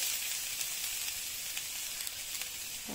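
Carrots sizzling in hot olive oil in a pan, a steady bright frying hiss throughout with small crackles and pops, close and continuous, no talking.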